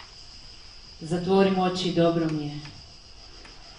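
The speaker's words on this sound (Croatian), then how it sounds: "Čuju se cvrčci, a ne pucnjave i uzbune." Crickets chirp in a steady, thin high trill during a stage play, continuing under a brief spoken line from a performer.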